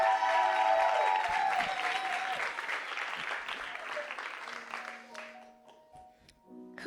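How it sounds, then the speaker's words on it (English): An audience applauds and cheers loudly as a performer is welcomed onto a cabaret stage, the dense clapping holding steady before tapering off toward the end. "Let's make some noise and welcome to the stage, Kiersten Langford."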